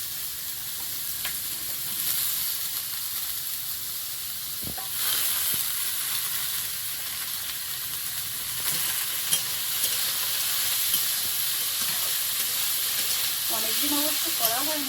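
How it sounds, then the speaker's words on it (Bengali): Carrots fry in a pan with a steady, soft sizzle and occasional scraping stirs throughout, a quiet kitchen background, with a brief voice near the end. "প্রথমে গাজরগুলো ভেজে নেবো"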